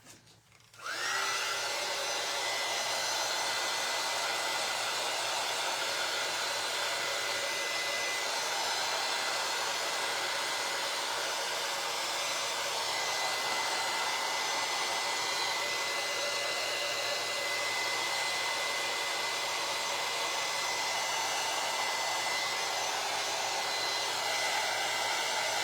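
A hair dryer blows steadily at close range, a constant whooshing roar with a faint high whine, running without pause and no talking.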